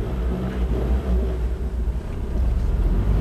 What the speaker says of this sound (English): How easy it is to over rev the engine.